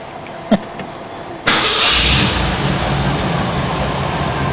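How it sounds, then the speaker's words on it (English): A 1984 Jeep CJ7 engine cranks briefly and catches with a loud burst, then settles into a steady rumbling idle close by, after a couple of faint clicks. "Jeep starts right up."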